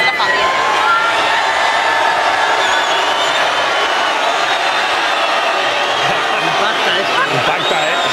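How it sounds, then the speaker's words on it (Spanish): A dense, roaring crowd cheers and applauds continuously at a New Year's Eve chimes broadcast, loud and sustained with whoops and shouts layered over steady clapping. "Es aplauso."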